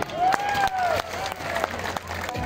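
Audience applause greets a girl student from an Urdu community school called up to give a speech on Pakistan, a steady wash of clapping over a thin tonal whine, with no voices on top.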